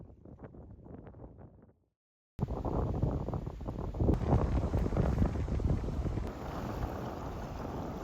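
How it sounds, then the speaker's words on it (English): Strong wind buffets the microphone while sailing through squalls under sail alone, a dense roar with gusting swells that begins abruptly after a brief quieter stretch and a moment of silence. "The wind really picked up in the afternoon"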